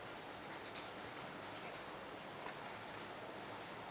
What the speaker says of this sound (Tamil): நல்லா இருக்குல்ல மழை சவுண்டு கேட்குதா மழையில்